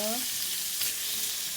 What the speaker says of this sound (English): So you wanna get that bacon going.